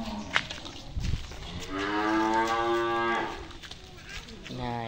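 A seven-month-old calf of a rare coloring lets out one long, drawn-out moo, loud and close, over a light background rustle.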